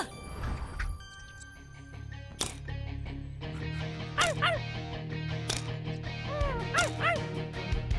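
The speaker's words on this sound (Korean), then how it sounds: "멍멍이는 저기 있어." Cartoon dog barking in short yips and whimpering, several bright repeated calls over steady background music, fairly close and clear, from a children's animal-rescue safety animation.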